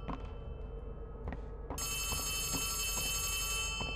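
A telephone rings loudly inside the Poppy Playtime Chapter 3 video game, a bright electronic trill that starts after a few thumps and keeps ringing in steady pulses.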